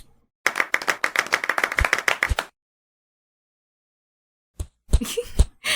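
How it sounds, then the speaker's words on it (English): A stock clapping sound effect from the animated series Animator vs Animation: a quick run of crisp, close hand claps, then a pause, then a few more scattered claps. "That's stock sound effect for the clapping"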